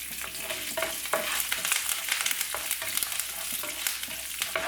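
Chana dal, urad dal and a few curry leaves roast in a pan for onion chutney, giving a steady sizzling crackle broken by sharp scraping stir strokes, close and fairly loud, with no voices.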